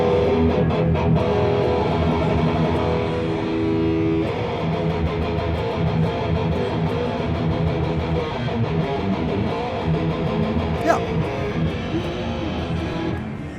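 An electric guitar plays through a Ragnarok high-voltage tube preamp distortion pedal at a NAMM trade show, giving a loud, continuous, thick distorted tone that sustains throughout over a busy, noisy show-floor background.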